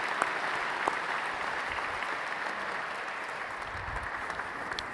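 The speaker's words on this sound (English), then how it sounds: "if you would do me the honor of honoring all of you with a round of applause" A gala audience at an American Liver Foundation event gives a steady round of applause, a continuous mass of clapping at even volume with a few louder claps standing out early on.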